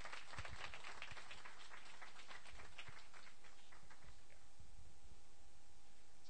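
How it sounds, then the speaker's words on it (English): Meetup audience at a WordPress gathering in London applauding a speaker, sustained crisp clapping from a room of people that thins and fades toward the end, with no talk over it. "So please give Tom a big round of applause."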